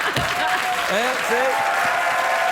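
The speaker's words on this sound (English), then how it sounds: "Sometimes when the audience feels sorry for me, they applaud" A late-night talk show studio audience applauds in a steady, moderate wash of clapping, while voices talk and laugh over it in the foreground.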